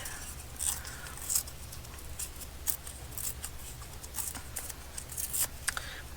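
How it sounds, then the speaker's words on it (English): Paper being torn by hand to make a journal collage, a few quiet, short ripping sounds scattered at irregular intervals, close up and faint. "Let's just tear that hard edge."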